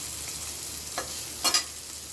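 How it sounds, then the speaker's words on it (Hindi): Paneer pieces fry in a pan with little or no oil, giving a faint, steady sizzle broken by a couple of brief stirring scrapes. "इधर पनीर फ्राई हो रहा है"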